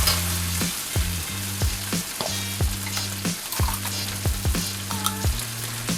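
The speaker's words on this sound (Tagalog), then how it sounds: "Hintayin nyo lang maluto yung giniling." Ground pork sizzles steadily in a pan while being cooked for bagoong Chinese fried rice, with repeated stirring knocks and scrapes breaking through the close, constant hiss.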